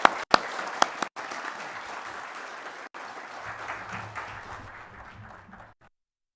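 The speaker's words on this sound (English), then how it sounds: "A round of applause for them," An audience applauds panelists at a climate action conclave, dense sustained clapping from a sizeable crowd with a few sharp close claps at the start, gradually fading out toward the end.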